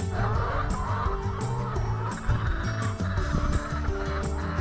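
Free-ranging chickens on a farm near Uddeholm in Värmland, Sweden, cluck and call close by in a busy, overlapping chorus, loud and continuous.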